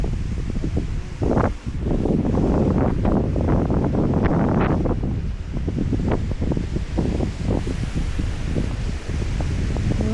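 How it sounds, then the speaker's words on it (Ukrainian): Strong wind roars and buffets the microphone continuously, with rustling gusts and no speech. "Який вітер."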